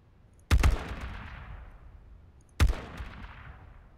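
A modified AK rifle in the video game H1Z1 fires two separate sharp shots, about two seconds apart, each with a loud crack and a long ringing tail that fades into quiet.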